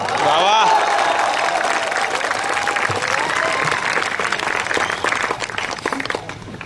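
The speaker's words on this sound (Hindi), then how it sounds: "अब तालियां उठे एक साथ सभी की" Audience applause fills a hall during a Hindi speech, a loud, continuous roar of clapping with a few cheers at the start, holding strong and then easing slightly toward the end.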